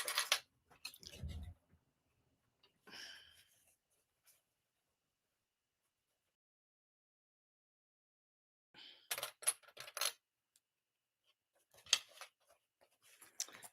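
Faint, scattered snips of scissors cutting fabric while sewing a zipper pouch, with a few short cuts at the start and another brief cluster later, separated by long quiet gaps.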